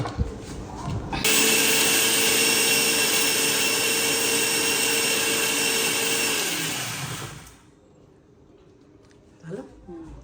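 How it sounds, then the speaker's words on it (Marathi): A mixer grinder starts abruptly and whirs loudly for about six seconds while grinding roasted ingredients, then winds down and stops, leaving quiet clinks and handling sounds afterward. "आपण थोडं ग्रँड करून घेणार वाटून घेऊ वाटून घेऊ आता"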